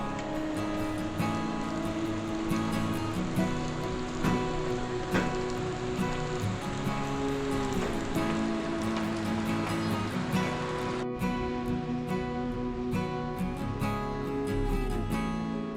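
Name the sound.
rain falling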